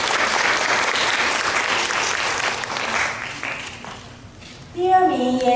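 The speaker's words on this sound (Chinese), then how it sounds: "请大家给予热烈的掌声。" An audience at a music competition award ceremony claps in loud, dense applause for several seconds before it fades. A few voices follow, along with a brief tonal sound.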